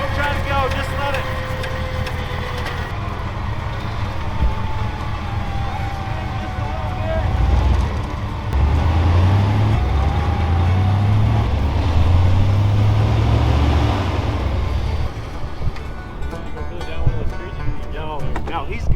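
A stuck vehicle sitting in gear labours as it is pulled free near a fence, its engine droning loud and steady with rising strained tones midway, while voices call out over the rumble.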